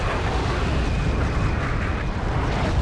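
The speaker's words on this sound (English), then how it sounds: "incoming my artillery is probably going to hit something there" Artillery explosions from the Wargame: Airland Battle video game form a loud, continuous rumbling barrage of booms with no clear gaps, heard alone without talking.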